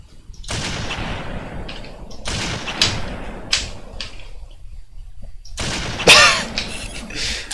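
Sniper rifle shots ring out in a Halo game, a few loud separated blasts with echoing tails spaced a second or two apart, the last one sharpest.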